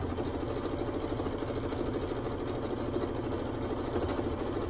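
A sewing machine running continuously while free motion quilting a scrap quilt, a steady fast mechanical whir and needle chatter at moderate, even loudness throughout.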